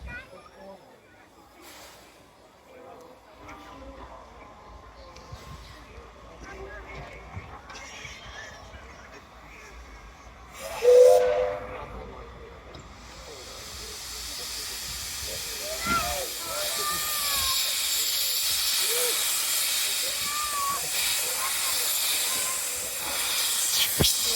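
A steam locomotive at the Kyoto Railway Museum lets out a short, loud whistle blast, then a strong, steady hiss of escaping steam swells and continues, with voices murmuring in the background.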